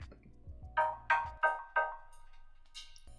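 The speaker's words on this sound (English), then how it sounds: "So basically it's just playing this synth line." A synth line sidechained to drums plays a few bright, pumping stabs that swell and duck in rhythm over a low pulsing bass, then drops away.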